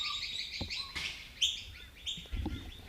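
Birds calling nearby at Wivenhoe Dam, Australia, with an Australian magpie's warbling, fluting notes standing out among other chirps; no voices.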